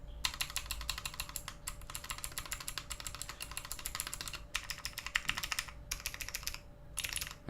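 Keys on a custom Lunefocus U60 mechanical keyboard, including stabilized ones, are pressed in fast bursts of crisp clatter, several runs of rapid typing separated by brief pauses, close and steady, with no talking.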